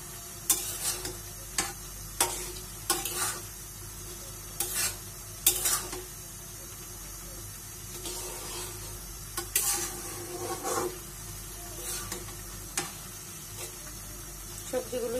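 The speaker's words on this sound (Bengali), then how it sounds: "একটু জল দিলাম, তরকারিটা বলকে এসে গেছে।" Sweet potato leaf vegetable curry simmering at a boil in a pot, with soft bubbling under a steady hiss and a run of sharp clinks and scrapes from a spoon against the vessel at irregular intervals.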